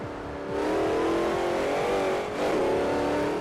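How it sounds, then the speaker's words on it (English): A supercharged car in Forza Horizon revs and accelerates, its engine drone topped by a rising supercharger whine that dips briefly and climbs again, loud and close with no voices. "That supercharger whine though."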